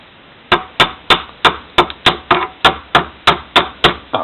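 A hammer chips slag off a stainless steel weld in about a dozen sharp, evenly spaced metallic taps, close and loud, with no talking.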